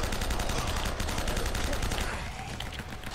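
MP40 submachine gun fire in Uncharted: Drake's Fortune, a loud, continuous rapid burst of automatic shots that tapers slightly near the end.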